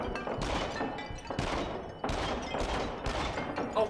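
Pistol shots in the VR shooter Until Dawn: Rush of Blood: about five sharp, loud cracks at uneven intervals, each followed by a short ringing tail, with no voices.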